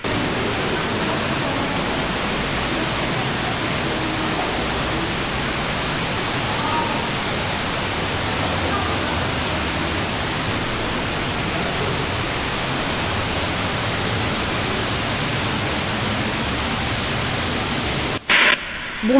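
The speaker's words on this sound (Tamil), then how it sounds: "மெயின் ஃபால்ஸ் இருக்கிற ஏரியாவுக்கு வந்துட்டோன்னு நினைக்கிறேன்." An underground waterfall roars inside Niagara Cave as a loud, steady broadband rush that fills the whole stretch, cutting off abruptly near the end.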